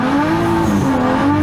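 Nissan Skyline R33 drift car making a hard launch, its engine roaring loud and close with a steady high note that dips and climbs, tires squealing throughout with no talk.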